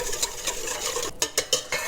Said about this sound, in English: we're going to dissolve it in about 2 cups of water